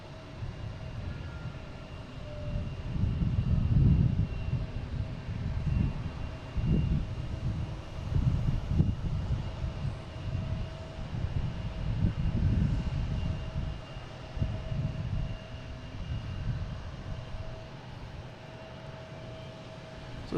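Airliner jet engines rumble at Boston Logan airport, a distant low roar that swells and fades in several waves over about twenty seconds, with light wind buffeting the microphone and no talk.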